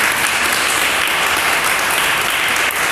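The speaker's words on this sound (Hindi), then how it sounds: "ऐसा है तो मुझे तालियों की आवाज़ आनी चाहिए भाई" Loud, dense applause from an audience at a church gathering continues steadily and evenly throughout, close and full, with no pauses.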